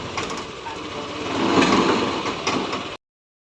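A Yamaha NMAX V3 155 scooter engine idles close by after a new battery is fitted, a steady running hum with a slight swell midway before cutting off.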